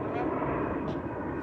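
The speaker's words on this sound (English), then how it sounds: "Sorry if you hear the airplane in the background." A low-flying airplane passing overhead toward Philadelphia gives a steady, loud engine roar that fills the whole short clip without a break.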